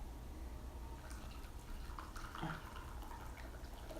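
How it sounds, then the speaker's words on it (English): Raspberry tea pours into a cup in a quiet room, a faint trickling stream of liquid with soft drips, close but gentle. "I'm pouring myself a little tea."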